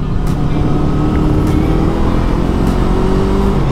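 An FKM Expres 500 motorcycle with a 500cc engine accelerates during a test ride, a loud steady low engine drone with rising tonal pitch and wind rush, close up and continuous, no talk.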